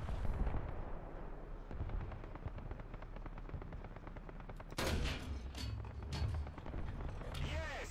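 Gunfire from a BT-7M light tank in War Thunder, a battle game, with a sharp cannon blast midway through and rumbling battle noise and explosions before and after it.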